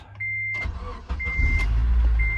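A 2003 Honda Element is started with a key: a steady electronic chime sounds, then the starter cranks and the engine catches into a low, loud idle close by while the chime repeats.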